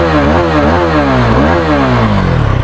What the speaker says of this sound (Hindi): इसकी एग्जॉस्ट की साउंड सुनाता हूँ।